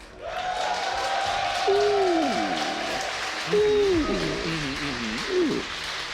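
At an Age of Empires II semifinal, the crowd cheers for TaToH: a broad roar of many voices with rising and falling chant-like shouts breaking through in waves.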